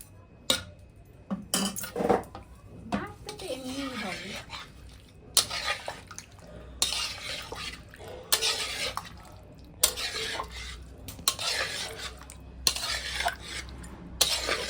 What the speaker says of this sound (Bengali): আচ্ছা একবার নেড়ে দেখাও মাংসটা কেমন হয়েছে।